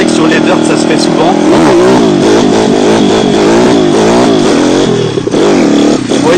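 A dirt bike engine revs hard and climbs through the gears into third, loud and close with rising and falling pitch sweeps, with speech mixed over it.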